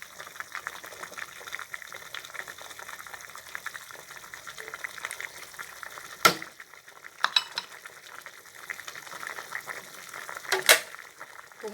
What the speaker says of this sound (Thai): เดือดแล้วโอ้โห น่ากินมาก